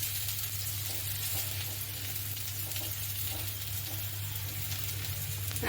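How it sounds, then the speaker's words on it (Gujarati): Stuffed millet rotlo roasts in ghee on a hot griddle, giving a steady, close sizzle and fry hiss that runs unbroken throughout with no talk. "આપણે ઘીથી શેકવાનો છે, તો આપણે થોડું થોડું ઘી એડ કરીને"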